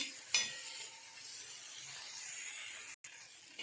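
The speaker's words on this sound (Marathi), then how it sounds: "याला सतत आपल्याला हलवत राहायचं आहे" Chutney ingredients roast in a pan and are stirred constantly, giving a faint, steady sizzle with one sharper scrape near the start.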